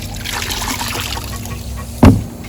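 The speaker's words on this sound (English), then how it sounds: "so we're just rinsing this off" Water runs over a coffee-dyed Nike Air Force 1 sneaker being rinsed, a steady close splashing flow with one sharper splash near the end.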